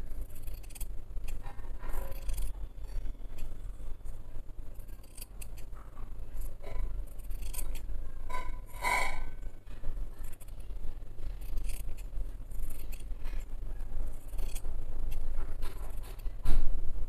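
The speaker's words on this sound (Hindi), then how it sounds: "हम इसको एक पैर काट लेंगे इस तरीके से" Tailor's scissors cutting fabric for a Jodhpuri bandhgala suit, a series of crisp snipping and scraping strokes in irregular rhythm, close and clear with no talking.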